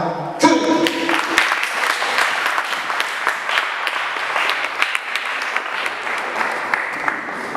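An audience at an international conference on engagement in Africa breaks into sustained, dense applause to welcome a speaker to the podium, filling the hall evenly for several seconds after a brief voice at the start.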